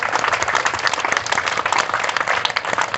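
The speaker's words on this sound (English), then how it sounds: "I want to give the committee another round of applause" Crowd at a Superman statue anniversary rededication ceremony in Metropolis, Illinois, applauding the committee: dense, continuous clapping from many hands at steady volume with no speech.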